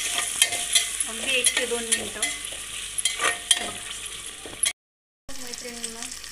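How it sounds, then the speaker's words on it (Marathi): Finely chopped tomatoes sauté in a pan for Khandeshi masala khichdi, with a bright steady sizzle and repeated scraping stir strokes, a brief total dropout near the end, then sizzling again. "बारीक चिरलेले टोमॅटो घालून घेऊयात आणि तोही थोडा 2 मिनटं परतवून घेऊ"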